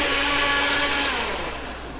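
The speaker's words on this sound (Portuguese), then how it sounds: "Meu irmão está fazendo vitamina. Um barulho, hein? Esse liquidificador." A kitchen blender whirs while making a smoothie, a steady loud motor drone with a high whine that eases slightly toward the end, close by and alone.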